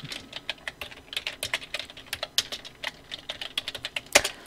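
Rapid, uneven clicks of typing on a computer keyboard, close and fairly soft, with a sharper keystroke near the end and no voices.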